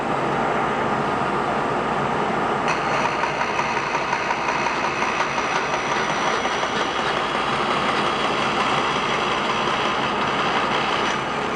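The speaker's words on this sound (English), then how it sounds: "I'm going to finish out the tenon on my bandsaw" A bandsaw cuts steadily through a wooden tenon for a trestle table base, a continuous close, loud buzzing whine with mechanical rattle and no pauses.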